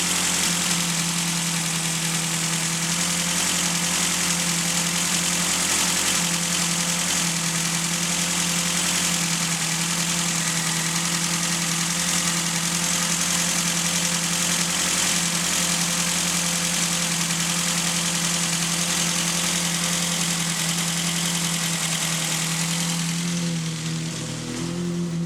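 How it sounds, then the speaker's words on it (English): A Ford Focus engine idles noisily after a cold start on a cold day, a loud, steady, continuous drone with mechanical clatter and vibration, heard up close with no talking. "I've never liked how noisy these engines are, man."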